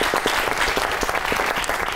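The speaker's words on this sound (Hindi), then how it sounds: "इस पे सबसे पहले तो बहुत सी ताली होनी चाहिए।" Studio audience on a Pakistani comedy talk show breaks into steady, dense clapping throughout, a loud continuous patter of many hands with no one speaking over it.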